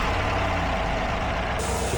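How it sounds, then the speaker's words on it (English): A Cadillac Escalade's engine runs with a steady, loud low rumble and idle for the whole stretch, with no talk over it. "is gonna be my first time turning on the car in a whole week."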